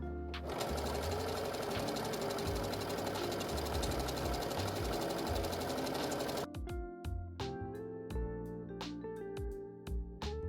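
A sewing machine runs steadily, stitching quilting lines through layered fabric, then breaks into short stop-start bursts of stitching near the end, close and loud with no talk.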